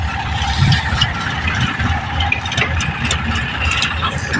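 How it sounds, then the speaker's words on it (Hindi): A farm tractor's engine runs steadily during wheat cutting, a continuous low rumbling idle heard close and fairly loud, without talk. "ये हमारा ट्रैक्टर है"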